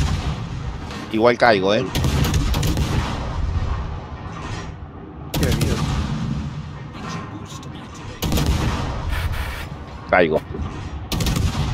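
Naval gunfire from the destroyer Harugumo in World of Warships, with repeated booming salvos and rumbling shots under excited talk, plus whistling shell sounds between volleys.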